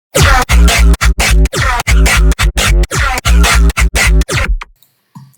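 A gritty, growling neuro bass synth from Serum 2, boosted around 500 Hz, plays a choppy rhythmic pattern of short, harsh bursts, then cuts off into near silence.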